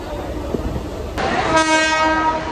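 A Mumbai local train rolls along toward Kalyan, its steady rumble and rattle filling the carriage before a loud, sustained horn blares in over the final second.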